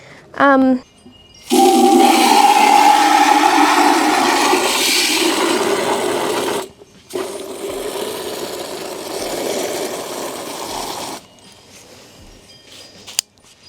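Water from a retractable garden hose spraying onto planter beds, a loud hissing rush that stops, starts again more softly for a few seconds, then cuts off.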